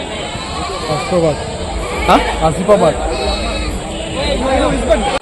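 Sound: goats bleating at an animal market

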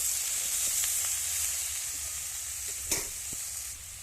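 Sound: cauliflower stems frying with spices in a pan

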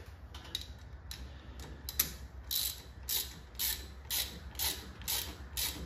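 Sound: ratchet tightening bolts on a 1959 Chevy Impala

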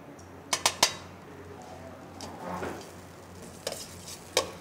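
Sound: butter being added to a pan

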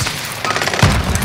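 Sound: gunfire in a first-person shooter video game

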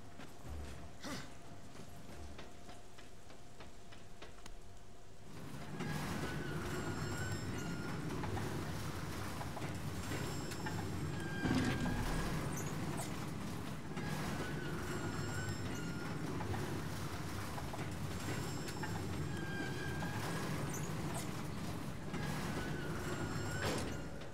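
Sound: small railway wagon rolling in video game Darksiders

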